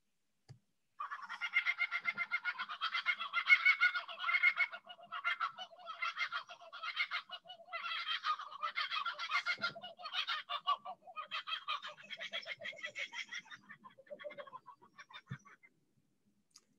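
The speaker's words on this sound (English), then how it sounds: "there's the kookaburra. And we'll give you a little bit of his voice here." A kookaburra in eastern Australia gives a long, rolling, laughing cackle that rises and falls in pulsing bursts for about fourteen seconds, moderately distant and heard alone.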